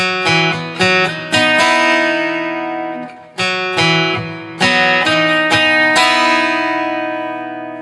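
An acoustic guitar plays a song's pattern slowly, with a downstroke on two strings and an upstroke on the open first and second strings. Clear picked chords ring out one after another in an unhurried rhythm, close and alone.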